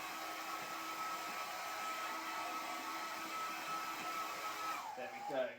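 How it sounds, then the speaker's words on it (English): A hair dryer drying a layer of poster paint blows with a steady high whine and airy hiss, running continuously, then cuts off near the end as it winds down. "we're just going to dry this layer with this hairdryer"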